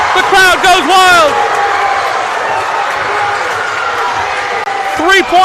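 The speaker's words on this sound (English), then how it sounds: "The crowd goes wild." A boys high school basketball crowd cheers loudly after a made shot, with whistles and squeaks on the court and an announcer's voice over the steady roar.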